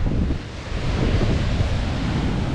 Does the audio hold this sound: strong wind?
yes